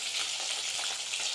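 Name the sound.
fish frying in pan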